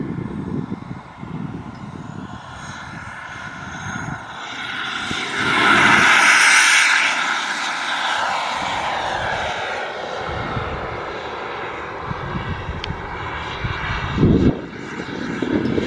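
A Boomerang Jets Ranger jet roars steadily overhead while setting up for landing at a Fredericksburg warbirds air show, a loud, sustained engine whoosh that swells around the middle and carries on through the whole stretch.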